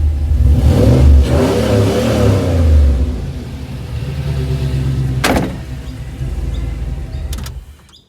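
A car engine revs loudly and close by, swelling over the first three seconds and then settling into a steadier rumble. A couple of sharp clicks cut in near the end, and no one talks.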